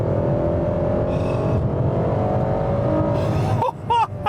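Ferrari 12Cilindri V12 supercar accelerating under throttle, a loud close engine roar with rising tones that builds steadily before cutting abruptly, then brief sharp engine bursts at the end.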